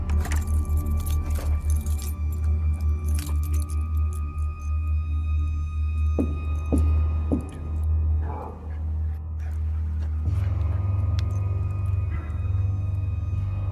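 Keys jangle near the mic in repeated rattling bursts over a low engine-like hum, then a few sharper metallic clinks as they settle.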